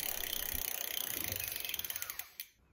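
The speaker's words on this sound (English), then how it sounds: "I'm using a 9mm to loosen the bolt that holds that cable into position" Ratcheting clicks from a 9mm wrench working the derailleur cable bolt on a Velowave Ghost e-bike, a rapid run of close mechanical ticks that slows into a few spaced clicks before stopping.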